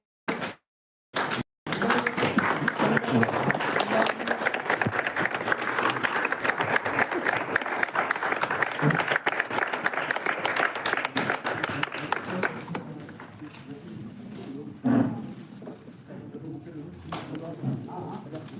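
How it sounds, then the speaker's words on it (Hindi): An audience claps loudly and continuously for about ten seconds before the applause thins out. A voice speaks over the start and again near the end. "जोरदार तालियों के साथ में हमारे"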